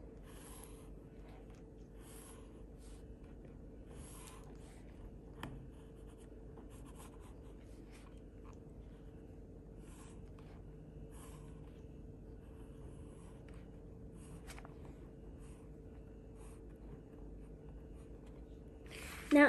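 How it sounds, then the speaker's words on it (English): A pencil drawn along a ruler scratches faintly across paper in short repeated strokes, quiet and close, with a low background hum. "I am going to draw lines from the left to the right"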